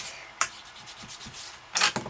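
Pencil numbers are rubbed out with an eraser on a handmade candle box, giving quiet, short scratchy rubbing strokes in bursts.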